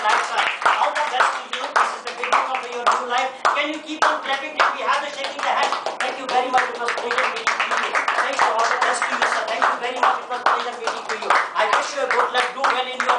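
Rhythmic clapping from a training-session audience during handshakes at a Train the Trainer certification ceremony, individual claps sharp and close, continuing steadily with voices mixed in.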